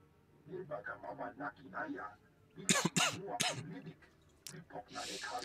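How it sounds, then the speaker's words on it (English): Someone who is slightly ill coughs in a few sharp, close bursts during a Star Wars: The Old Republic game stream, with voices talking before and after. "That's why I'm coughing quite much."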